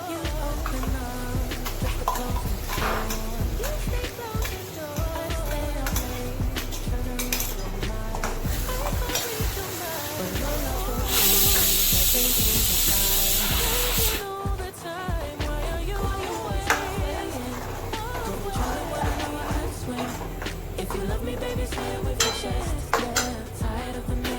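Raw masala paste and chicken fry in a pan with a continuous close sizzle, broken by frequent stirring scrapes and clinks of a spoon on the pot, one burst of louder hissing midway.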